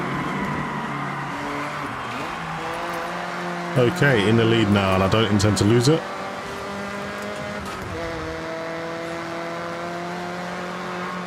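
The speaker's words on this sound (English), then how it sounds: "The sounds of the car on this game is just awesome" Race car engine in the Forza Horizon driving game, a steady droning hum with a louder burst of rising revs and shifting tones midway, heard under someone talking throughout.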